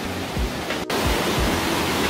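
An underground waterfall inside Hwanseon Cave in Samcheok, a dense, constant rushing roar of falling water with low rumbling surges, broken by a momentary dropout partway through.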